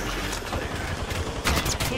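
Gunfire in the Apex Legends video game, a rapid string of shots at moderate loudness with a sharper burst near the end, mixed with players talking.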